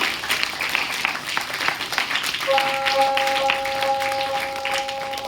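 Applause from a school assembly crowd, a dense, continuous patter of many hands clapping at fairly close range, with a sustained tone entering partway through.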